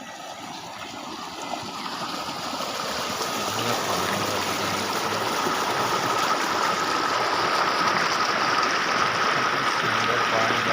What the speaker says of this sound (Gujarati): આ જો પાણી જાય છે એટલું બધું.